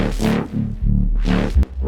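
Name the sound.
synth bass, Evil Squelchathon preset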